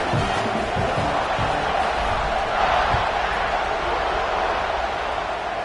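A home crowd cheers at an American football game in a broad, continuous roar that stays steady and fills the stadium. A faint announcer's voice sits beneath it.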